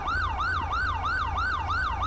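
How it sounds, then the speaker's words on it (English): A police car siren from GTA V with the LSPDFR mod wails steadily in a loud, regular rising and falling cycle, heard close and alone. "Let me turn the siren off."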